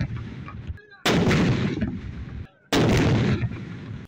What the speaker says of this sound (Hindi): मुल्क भर में ईद मिलादुन्नबी सल्लल्लाहु अलैहि वसल्लम और यौम दिफा पर दिन का आगाज़ 21 तोपों की सलामी से हुआ।